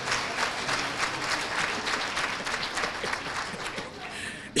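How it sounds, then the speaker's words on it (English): Audience at a banquet applauding steadily, a dense wash of many hands clapping at moderate distance throughout, with no break. "give these guys a round of applause, please"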